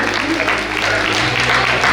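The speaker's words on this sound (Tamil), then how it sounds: "எங்களுக்கு பலத்த கரகோஷங்கள் கேட்டுக்கொள்கிறோம்" Audience applause at a teachers' appreciation award ceremony during Chithirai Thiruvizha: steady, moderately loud clapping from a gathered crowd, with a low background hum and some voices mixed in.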